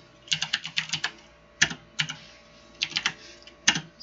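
Quick bursts of keystrokes on a computer keyboard as a virtual machine name is typed, clustered taps with short gaps and a few isolated presses, close and crisp, no speech.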